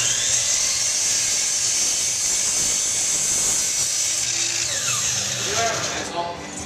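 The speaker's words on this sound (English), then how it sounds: "Here I am pre-drilling the screw holes for my seat slats and armrests." A power drill whines steadily at close range, pre-drilling screw holes in wooden garden bench slats, its high buzzing pitch shifting slightly as it bites into the wood before easing off.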